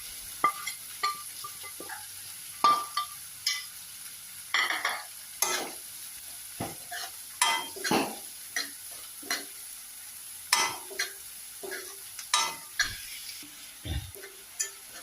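Homemade spice mix for mutton curry sizzles softly in a pan while a utensil stirs and scrapes in a steady, repeated rhythm, close and clear with no talking.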